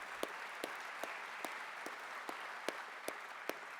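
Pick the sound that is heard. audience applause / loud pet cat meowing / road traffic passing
audience applause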